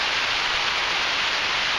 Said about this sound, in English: rain is getting heavier.